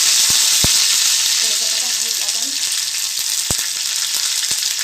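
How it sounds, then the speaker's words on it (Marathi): Curry leaves dropped into hot oil crackle and hiss loudly at close range, a dense continuous sizzle with a few sharp pops standing out. "आता तेल काढलंय, त्यामध्ये बघा मी हे टाकून घेते कढीपत्ता"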